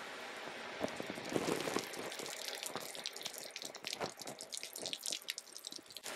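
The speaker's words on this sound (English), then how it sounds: "The rain did start pretty much on time" Steady patter of falling water from an artificial rain machine, a dense hiss of drops splashing onto a surface, continuous and moderately close with no voices.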